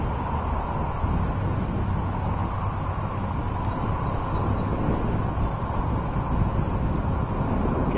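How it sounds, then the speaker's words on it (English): Warm wind gusting steadily ahead of a severe thunderstorm, a constant broad rush buffeting the microphone with no break. "Still nice warm wind out ahead of it."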